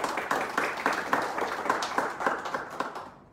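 Audience applause at an evening talk on the Humaitá fortress, a steady patter of many hands clapping that fades out at the end.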